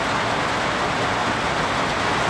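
Heavy rainstorm at a mine, a steady, dense roar of rainfall that fills the brief moment evenly and loudly, with no voices heard.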